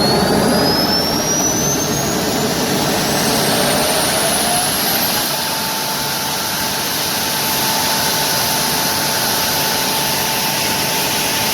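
A jet-powered kart's turbine spooling up from a start, a loud steady roar with a rising whine and tonal hum, close by and alone with no talk.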